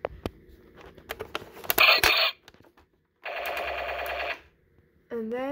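A toy AK-style rifle sounds off, emitting a loud buzzing electronic burst of rapid-fire gun noise, then a second sustained burst after a pause and a rising tone at the end, with clicks and handling noise between.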